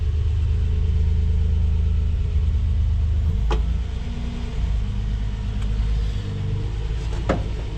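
A 1976 Datsun B210 four-door with a freshly fitted carburetor idles rough, giving a steady low, uneven rumble with a couple of faint clicks, close by and with no talking.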